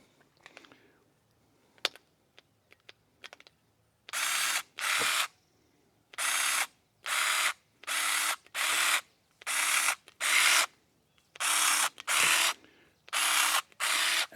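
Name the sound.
WorkPro cordless electric pruning shears cutting plants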